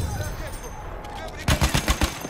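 An M1917 machine gun fires in the video game Battlefield 1, a rapid burst of loud, punchy shots arriving in the second half after a stretch of game background noise.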